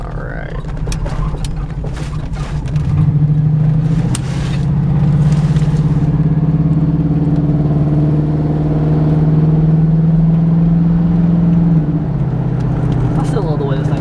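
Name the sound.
1996 Buick Roadmaster wagon engine and exhaust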